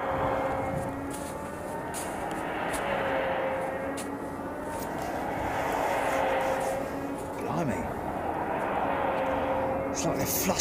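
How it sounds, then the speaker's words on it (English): Compressed air from a jet airliner's engine starter at Ted Stevens Anchorage International Airport: broad rushing hiss swells and fades in waves beneath a steady engine whine, with a few sharper bursts near the end. "That's definitely compressed air. I wonder if that's the starter"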